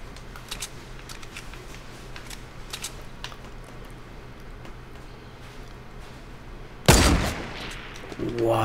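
In a Fortnite match, faint distant gunshot pops crackle in scattered bursts, then one sharp, loud close shot rings out near the end, with light keyboard clicking underneath.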